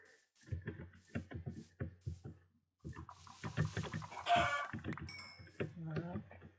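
Repeated Minecraft chicken clucking calls in short bursts, separated by brief gaps, with a busier passage of game tones and effects near the end.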